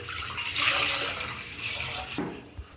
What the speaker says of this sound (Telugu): ఒక 2 లీటర్ వాటర్ యాడ్ చేసేసుకుందాము